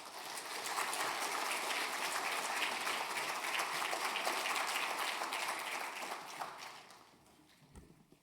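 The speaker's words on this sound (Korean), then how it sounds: "나오실 때 큰 박수로 환영해 주시겠습니다." A Sunday church congregation gives a pastor a warm welcome with loud, sustained clapping from many hands, which thins and fades away over the final second or two.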